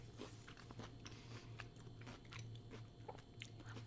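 A fried pickle is bitten and crunched up close, crisp crackling bites and chewing that go on steadily, with a low hum behind and no talking.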